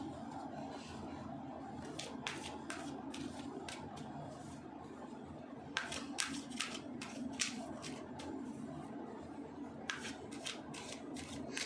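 Tarot cards are drawn from a deck and shuffled, giving repeated crisp riffling bursts in quick clusters over a steady low room hum, close by and with no talking.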